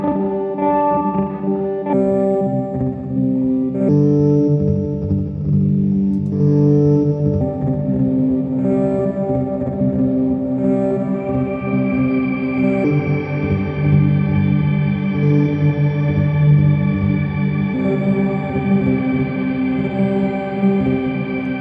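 Heavily processed guitar through a pedalboard with thick distortion, chorus and echo, forming dense, shifting glitchy layered textures that swell and change throughout, loud and continuous.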